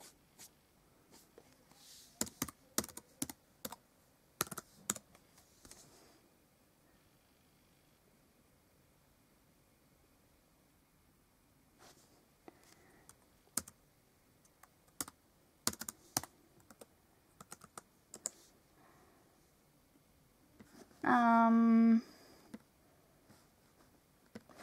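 Quiet, irregular clicks from someone typing a password on a laptop keyboard, arriving in short bursts separated by pauses, with a brief louder tonal sound near the end.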